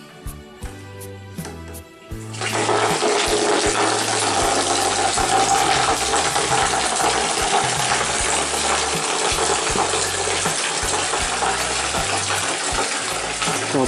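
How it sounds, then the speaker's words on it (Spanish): Water gushes steadily from the opened tap of an electric shower fitted with a temperature control system, a loud continuous broadband rush that starts abruptly after a couple of seconds of low clunks and persists evenly to the end. "Abriremos el grifo."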